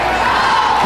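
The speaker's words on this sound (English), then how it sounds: "Ayan na, naririnig mo na yung crowd." Crowd cheering at a UST volleyball game, a loud, dense roar of many voices filling the arena in one short continuous swell.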